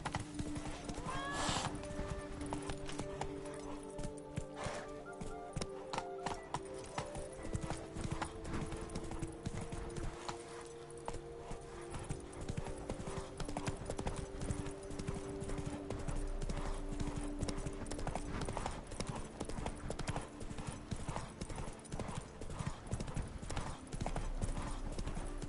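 Hoofbeats of the horse Roach clip-clopping steadily in The Witcher 3: Blood and Wine, with a brief whinny early on, layered over game music and ambience throughout.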